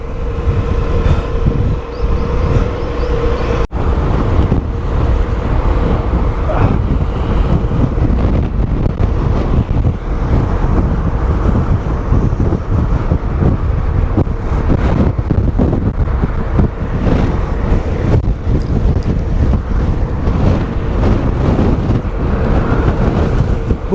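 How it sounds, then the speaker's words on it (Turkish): Strong wind on a Taiwanese island buffets the microphone continuously while riding a motorbike, producing a loud, roaring, gusty rumble with the engine droning underneath. "Bu kısım inanılmaz rüzgarlı."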